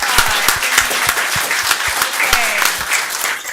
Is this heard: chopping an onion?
no